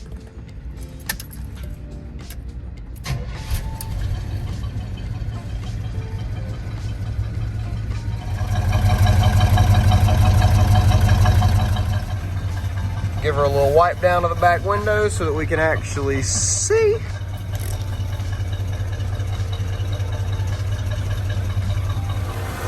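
The engine of a 1980 GMC Jimmy, fitted with new belts, idles steadily in a low, even rumble that swells louder for a few seconds. Someone talks over it and keys jangle briefly.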